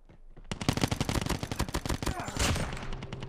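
Close-range bursts from a Cordite submachine gun in Call of Duty Mobile, a rapid rattling string of loud shots that starts abruptly and runs without pause for about three seconds.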